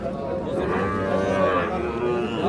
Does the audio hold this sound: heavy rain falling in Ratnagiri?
no